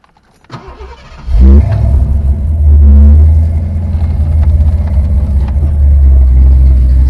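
A Foxbody Ford Mustang engine cranks briefly and catches, then settles into a loud, steady, deep idle rumble close by, with no talking over it.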